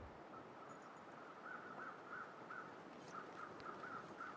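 Crows caw in the survival video game The Long Dark, a series of faint, evenly spaced calls from a distance over a steady wind-like hiss, with no talking.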